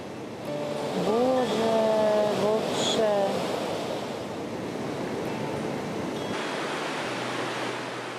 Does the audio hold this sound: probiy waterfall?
yes